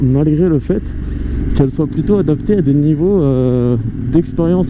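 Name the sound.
KTM 890 Duke motorcycle riding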